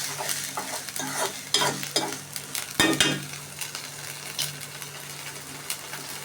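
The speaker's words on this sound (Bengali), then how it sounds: "সবগুলো ভালোভাবে কষিয়ে নেব।" Duck meat with garlic paste stir-fried in a pan gives a steady close sizzle throughout, broken by scraping stirs and a few louder clatters of the spatula against the pan.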